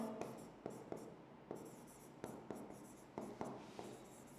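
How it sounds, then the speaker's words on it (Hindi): Chalk or marker strokes on a board during a class on osmosis and the plasma membrane, a series of quiet scratchy taps and scrapes in an irregular rhythm, close and faint with no talk. "तो मैं लिख दूं इसको, मैं लिख दूं"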